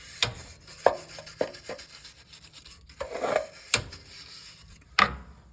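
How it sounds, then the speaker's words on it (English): A steel wire brush scrubs a Ford 302 or 351 Windsor engine part clean after carb cleaner, making close, intermittent harsh rasps and scratchy strokes with gaps between them. "and then this steel wire brush, and just get that nice and"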